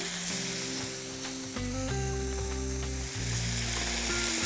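Fish sizzling and frying in a hot pan, a loud continuous crackle and hiss with a few stirring or shifting sounds, no talking.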